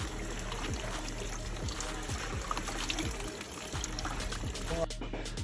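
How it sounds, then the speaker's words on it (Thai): Water pours steadily into a natural silk dye bath, a continuous close splashing trickle that runs the whole time under a person talking. "เราจะเติมน้ำกันก่อน"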